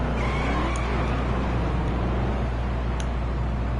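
Race car in the video game NASCAR Heat 3 lapping a 1.5-mile speedway, a loud continuous engine drone holding steady throughout with no talking.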